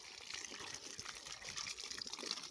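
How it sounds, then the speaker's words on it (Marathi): Water gushes out of a pump pipe in a steady, rushing, splashing flow, fairly faint and continuous throughout with no voices. "पाणी बाहेर येऊ द्या."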